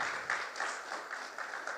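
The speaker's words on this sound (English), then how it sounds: "let's give them a very warm round of applause for that." A room full of people applauds steadily at a speech, a dense wash of clapping at moderate volume throughout.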